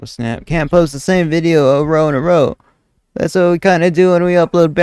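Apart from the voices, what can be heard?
No distinct noise like a dog, phone or traffic.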